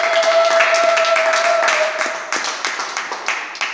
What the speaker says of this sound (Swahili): Nataka mtu mmoja ashangilie Yesu, apigie Yesu makofi